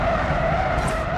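An Aston Martin in BeamNG.drive at high speed, skidding with loud sustained tire squeal and engine roar, close and intense throughout the short burst.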